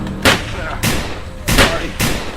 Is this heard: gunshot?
yes